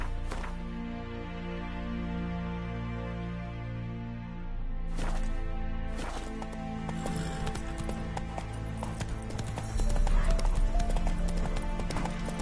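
Hooves of the horse Roach in The Witcher 3, a rhythmic clip-clop running under a sustained musical score, growing busier and louder toward the end.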